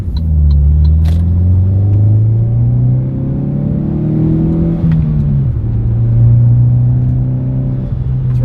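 A Saab 9-5 with low oil pressure, run after sitting for a while, revs up loud and close with a rising engine drone, dips briefly and settles into a steady high hum.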